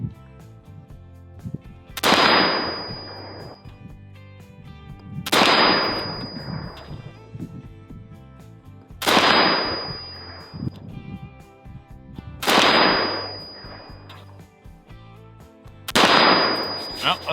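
Five single rifle shots from a Colt Air Force Model 601 clone rifle, loud and sharp, spaced evenly about three and a half seconds apart, each followed by a short ringing decay at an outdoor range.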